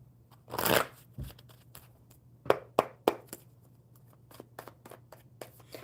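Playing cards are shuffled close by, a soft riffle followed by several sharp snaps and quick taps, with a faint hum underneath.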